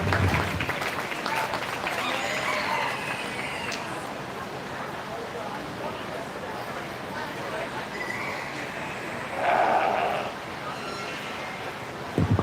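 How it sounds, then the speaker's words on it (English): Audience applause at a 4-H and FFA sheep show at a county fair, sustained clapping from a crowd mixed with outdoor noise and talk, with a brief louder swell partway through. "Again, give these guys a round of applause,"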